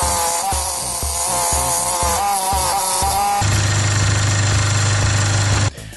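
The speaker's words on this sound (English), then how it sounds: "now I'm gonna cut out the outer shape" A scroll saw cuts the outer shape of a wooden piece for a spider table lamp, its fast blade buzzing steadily and loudly up close, with a brief change in pitch partway through before the motor stops near the end.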